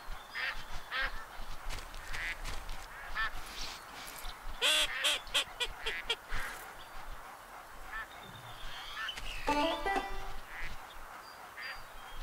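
Duck calls and quacking ducks in the Duck Dynasty hunting video game, repeated quacks and honks over a busy game background, with someone talking in between.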